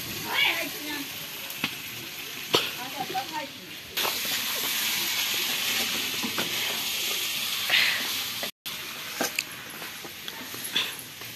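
Fish frying in a pan in a home kitchen, a steady hiss and sizzle with occasional crackles and pops, heard under people talking.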